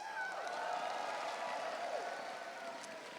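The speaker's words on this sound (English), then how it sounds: "What's it like to have that crowd cheer for you, Ethan?" Arena crowd at a CS:GO esports tournament final keeps up a steady, dense roar of cheering and applause, with a few voices rising above the wash throughout.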